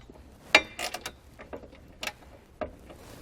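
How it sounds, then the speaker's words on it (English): Bolts being hand-tightened while installing a MORryde camping kitchen with storage compartment on a trailer: a few scattered faint metallic clicks and creaks, close and sparse, with no talk. "So get them hand tightened first, and I'll come back down and tighten them down the rest of the way."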